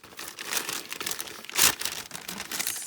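Paper or similar material crinkling and rustling as it is folded and handled on a desk, close and uneven, with one sharper crumple midway and no talking.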